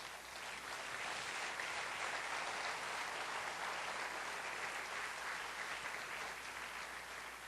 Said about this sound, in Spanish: si quieren aplaudir, aplauden